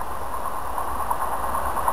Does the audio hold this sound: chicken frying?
no